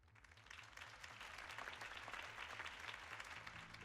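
Crowd applause in the Batman: The Telltale Series video game, a steady wash of clapping from many hands that swells slightly and holds, quiet and alone.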